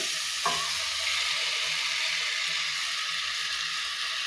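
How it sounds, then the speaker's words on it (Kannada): Egg stirred into drumstick leaves frying in a pan, a steady bright sizzle running throughout with a soft scrape of stirring near the start, close and continuous. "ಮೊಟ್ಟೆನ ಹಾಕ್ಕೊಂಡು ಇದನ್ನು ಚೆನ್ನಾಗಿ ಮಿಕ್ಸ್ ಮಾಡ್ಕೋಬೇಕು"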